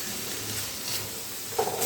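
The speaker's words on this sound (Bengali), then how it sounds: "এবারে মশলার সঙ্গে আলুটাও খুব ভালো করে মিশিয়ে নিতে হবে মানে এক মিনিট মতো কষিয়ে নিতে হবে" Pre-fried potatoes being stir-fried with curd and spice masala in a pan, a close, continuous sizzle with a brief clink of a utensil near the end.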